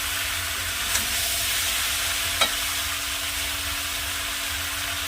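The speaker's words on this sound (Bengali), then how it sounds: "এবার আমার নাড়া হয়ে গেছে ভালো করে, দেখো বন্ধুরা সব মিশে গেছে।" A mixed vegetable curry with drumsticks cooks in a pan, making a steady, even hiss of frying with a couple of faint knocks from stirring.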